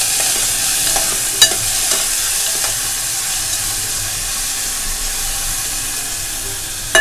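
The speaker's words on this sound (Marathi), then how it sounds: "कांदा चांगला आपण जरा परतून घेऊया तेलामध्ये।" Onion fries in hot oil in a pan, a loud, constant bright sizzle with a few sharp clicks of a stirring utensil and a brief knock near the end.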